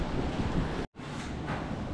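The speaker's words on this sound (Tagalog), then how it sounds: "Yung hangin ang malakas." Strong wind buffets a microphone outdoors in a steady, loud roar, dropping out for a split second before resuming, with no voices.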